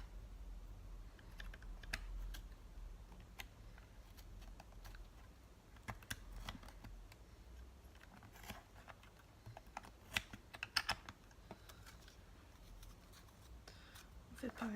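A mini alphabet punch board cuts out a letter with repeated short clicks and snips, close but faint, while a voice speaks softly underneath.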